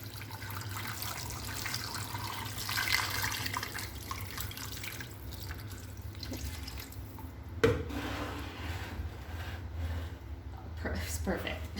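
Water runs steadily into a pressure cooker for chicken and beef soup, a continuous close filling hiss with a brief clunk partway through, while someone talks.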